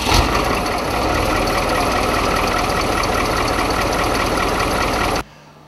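A school bus's 10.4 liter diesel engine idles in a steady, loud, even rumble close by, running unbroken for about five seconds before it cuts off abruptly near the end.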